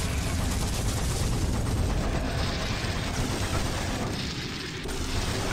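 Rapid, sustained minigun fire in the shooter game Doom 3, a dense continuous loud barrage of shots with booming low end running through the whole stretch without pause.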